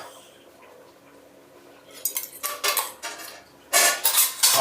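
Metal utensils clink and scrape against a dish while paste is worked into fish for marinating. After a quiet start, the bursts come in two loud clusters toward the end, close up, with no talking.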